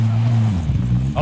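In Call of Duty Warzone, a vehicle engine hums steadily with a low, shifting drone that rises slightly in pitch as it drives, brief and close, with speech over it.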